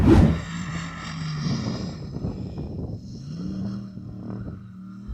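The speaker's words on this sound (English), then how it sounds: "You're just driving around in circles, Yanni." A performance car circles nearby, its engine rising and falling in pitch as it revs, loud at the start and then easing and swelling again as it comes around.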